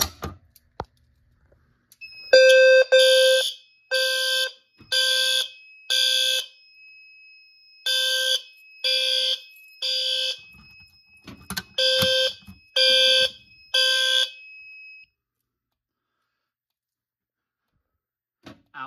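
A Silent Knight fire alarm system under test sounds loud, repeated horn blasts in two bursts of coded pulses, with a steady high electronic tone running beneath. No one speaks.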